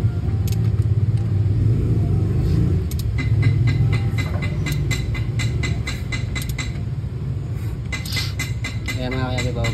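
The exhaust of an Isuzu Trooper's 4JG2 diesel engine, misfiring and smoking, idles with a steady low rumble and uneven pulsing beats. Someone talks over it now and then.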